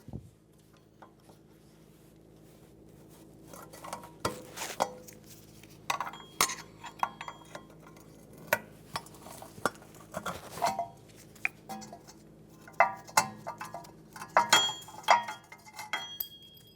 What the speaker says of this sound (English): Remove the shoe and the clip.